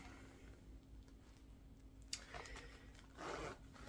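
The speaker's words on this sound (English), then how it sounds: "there's a little bit of struggle on these zippers" A zipper on a purse being worked open and closed with some struggle, a couple of short scraping zips, quiet and close, the second one longer.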